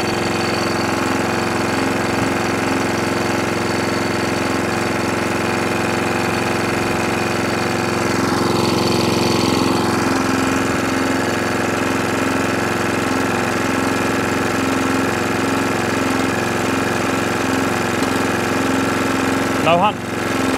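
A Qualcast 35s cylinder mower engine idles on half choke, a steady, even drone running unbroken close to the microphone, with a short metallic clatter just before the end.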